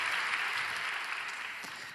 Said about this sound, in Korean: 우리 한번 박수로 축복해 주시겠어요?